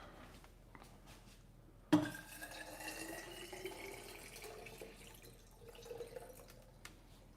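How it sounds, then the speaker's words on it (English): Water from a kitchen tap runs into a water jug at a dried-out sink, a soft steady stream with a sharp clunk near the start and light clatter of dishes, close and fairly quiet. "refill my water jug."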